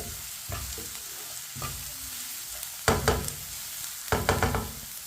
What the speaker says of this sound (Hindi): प्याज को मैंने मिक्स कर लिया। अब इसे 1 मिनट के लिए पका लेते हैं।